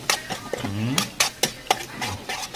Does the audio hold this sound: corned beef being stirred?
yes